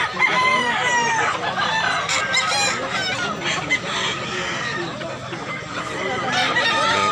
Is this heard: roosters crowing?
yes